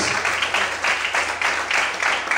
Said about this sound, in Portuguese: Então aplaude o Senhor, glorifica a Deus.